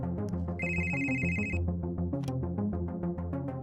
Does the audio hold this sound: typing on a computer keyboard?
no